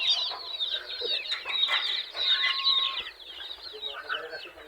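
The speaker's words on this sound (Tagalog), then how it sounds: "ating mga alaga, ating mga manok" Chickens clucking close by in a backyard flock, a busy overlapping chorus of short clucks and squawks that continues steadily at moderate loudness.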